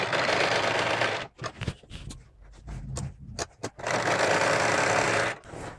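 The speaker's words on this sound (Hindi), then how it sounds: "पहले हम इसे सिलाई करके बंद करेंगे" A sewing machine stitches shut the elastic opening on palazzo pants, running in two loud, steady whirring bursts separated by a quieter stretch of clicks and fabric handling.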